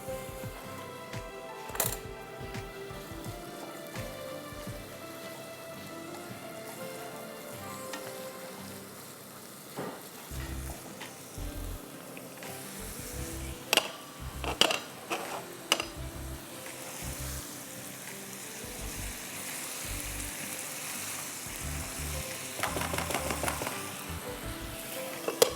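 Chopped onion with ginger-garlic paste, bay leaf and cumin frying in ghee, a steady close sizzle with scattered clicks and scrapes of stirring, growing louder and busier toward the end, with no talking.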